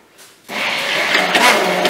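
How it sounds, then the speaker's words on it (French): A kitchen blender starts up abruptly and whirs steadily, mixing eggs with spinach and carrots, its loud close motor drone filling the rest of the short stretch without speech. "Et là, je vais mixer."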